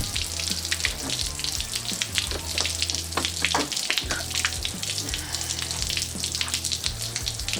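Fresh tap water gushes and spills from the top vent hose of a full 21-litre water tank on a Nissan NP300 Navara, a continuous splashing, hissing flow heard up close.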